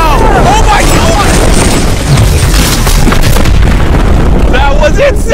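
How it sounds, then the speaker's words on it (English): The tallest domino in the world crashes down with a loud, heavy booming impact and rumbling roar that fills the whole stretch, while excited voices shout over it. "Down goes the domino."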